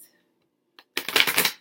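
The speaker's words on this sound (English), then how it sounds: "I'm just shuffling the cards that I'm using for readings this month." Tarot reading cards are shuffled in a quick, crisp riffle burst lasting about half a second, close and fairly loud after a faint tap.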